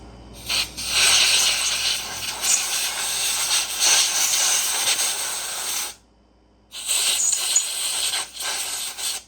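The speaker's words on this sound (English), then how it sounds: "Grab this air hose and blow it around a little bit." A compressed air hose blows out the fuel screen of a Huskee 22-ton log splitter, a loud steady hissing blast for about five seconds, a brief pause, then a second burst of air.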